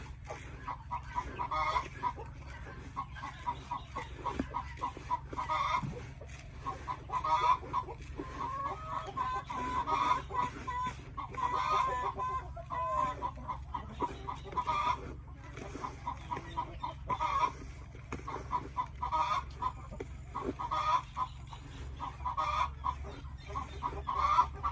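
Layer hens clucking at feeding time, a busy flock of overlapping soft clucks and murmurs that runs on steadily at moderate distance, with a constant low hum underneath.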